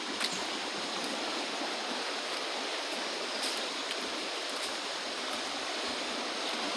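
A river flows through African wilderness near farmland and trees, a steady, broad rushing wash of water heard alone without voices.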